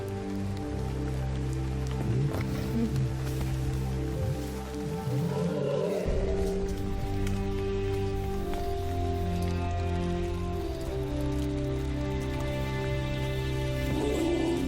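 Steady rain falls across the Botswana wilderness in a continuous, even hiss, with sustained tonal layers running beneath the downpour throughout.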